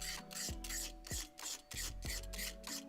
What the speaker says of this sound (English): to remove the old finish, I started off by using a knife to scrape it off.